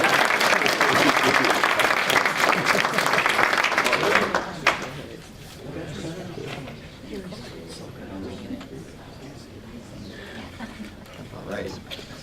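Audience applause fills a hall at an award ceremony, loud and dense for about four seconds before dropping away to quieter murmuring and movement, with faint talk beneath.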